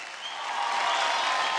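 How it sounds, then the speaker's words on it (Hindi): Studio audience on an Indian televised dance competition breaking into strong applause, a dense wash of clapping that swells louder after the first half second and holds steady with no talk over it. "एक बार जोरदार तालियां हो जाए"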